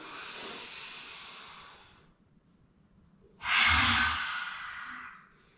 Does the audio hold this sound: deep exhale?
yes